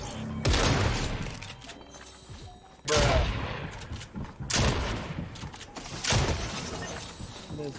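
Bursts of submachine gun fire from a competitive shooter video game come in several loud, rapid volleys spread across the moment, with faint voice chatter underneath.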